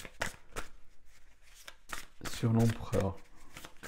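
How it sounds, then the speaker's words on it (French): A tarot card drawn from the deck in a reading, heard as several quick papery flicks and snaps close by, followed by a voice speaking over the last part. "On va remettre une carte"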